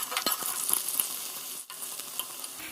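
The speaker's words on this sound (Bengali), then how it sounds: "এবার আমি আলুটাকে ভেজে নিচ্ছি।" Potatoes frying in a pan in a home kitchen, a soft, continuous sizzle with small scraping stirs, one brief dip partway through, no voices.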